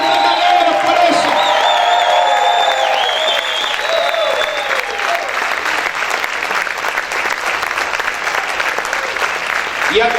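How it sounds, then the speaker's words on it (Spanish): Church congregation applauding and cheering loudly and steadily, with whoops and shouts rising over dense clapping and sustained voices throughout. "Grita, celebra, aplaude al Rey de Gloria"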